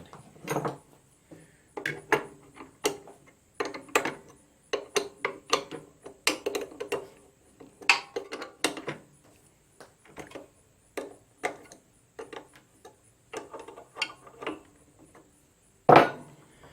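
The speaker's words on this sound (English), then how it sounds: "We're going to remove all these bolts, pull off this top plate" Metal bolts being removed from the top plate of a DeWalt benchtop planer, many short clicks, taps and rattles in quick irregular bursts, close by, with one louder clunk near the end.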